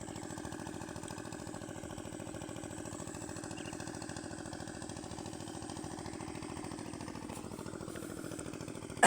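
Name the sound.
engine of an irrigation water pump running, made in China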